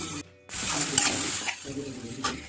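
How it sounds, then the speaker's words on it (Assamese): Onion and tomato fry over a low gas flame in a pan for an egg and soybean dish, giving a close, steady sizzling hiss with brief stirring scrapes and one short pause. "ল' কৰি অকণমান ভাজি পেলাই"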